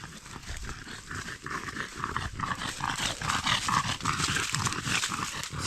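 A dog panting and shuffling close by in a spring forest, with rhythmic breathy sounds and light movement noise throughout, no speech.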